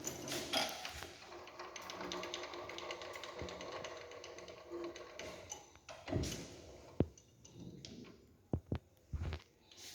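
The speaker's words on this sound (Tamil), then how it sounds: "இப்போ இந்த டூல் வந்து கட் பண்ணிட்டு போகிறது" A lathe tool cutting an internal thread in a workpiece gives a quiet mechanical whir with ticking and ratcheting, then several sharp metallic clicks and knocks near the end.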